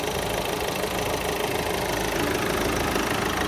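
The CRDI diesel engine of a 2019 Kia Ceed Sports Wagon idles with the bonnet open, giving a steady, even, mid-pitched hum with a faint clatter and no change in pace.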